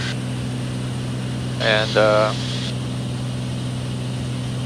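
A Beechcraft A36 Bonanza with tip tanks drones steadily in flight after maintenance, an even low engine and propeller hum heard from inside the cabin, with a brief spoken word over it.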